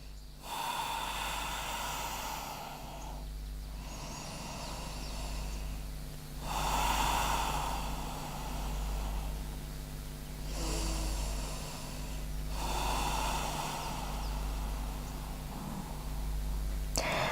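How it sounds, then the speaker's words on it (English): Slow, deep yoga breaths during a beginner sun salutation warm-up, with several long inhale and exhale cycles rising and falling close by over a steady low hum, and no talking. "Let's take 3 deep breaths here."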